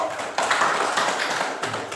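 Pupils in a classroom clap for a classmate, a short, rapid, blended burst of many small hands, close by and fairly even, with no speech over it.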